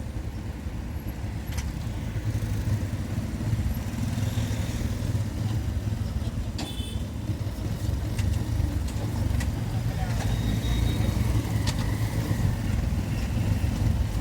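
City road traffic in Diphu, Karbi Anglong: a constant low rumble of passing cars and motorcycles with occasional sharp clicks, under a voice talking.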